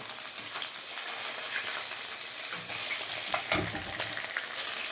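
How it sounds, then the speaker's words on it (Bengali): Koi fish finishing frying in hot oil, a continuous soft crackling sizzle with a few louder spatula scrapes and knocks toward the end. "দেখো মাছগুলো সব ভাজা হয়ে গেছে"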